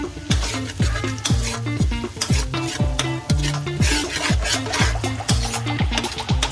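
Chopped onions and beef frying in a pan while being stirred: loud, steady sizzle with a rapid rhythm of spoon scrapes and clinks against the pan, close and continuous, no voices.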